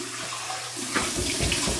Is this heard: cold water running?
yes